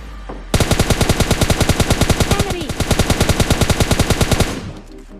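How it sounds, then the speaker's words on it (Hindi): Automatic gunfire from the PUBG Lite video game rattles as one long, loud, rapid burst of evenly spaced shots lasting about four seconds, with a brief dip midway, then a quiet tail. "लेकिन तभी पीछे से फायर आता है"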